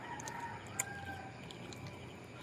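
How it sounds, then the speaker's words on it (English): Chickens clucking and a rooster crowing in a jungle setting, faint and somewhat distant, with scattered bird calls over a quiet background hum. "The chicken are clucking this time."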